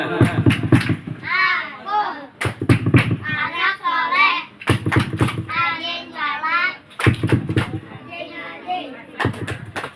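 Children at an Isra Mi'raj gathering perform a rhythmic clapping chant, sharp bursts of hand claps in sets alternating with voices chanting in unison, close and lively.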